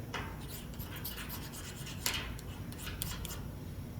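A hacksaw blade striker scrapes across a Chinese firesteel rod in repeated short, gritty rasping strokes, fairly close but quiet, with a few sharper scratches mixed in.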